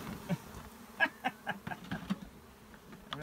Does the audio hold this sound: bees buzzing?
yes